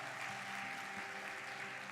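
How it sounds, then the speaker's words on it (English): A large audience claps in a steady, dense wash of applause, continuous and moderately loud throughout. "Give them a huge round of applause."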